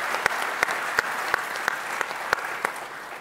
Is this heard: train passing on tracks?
no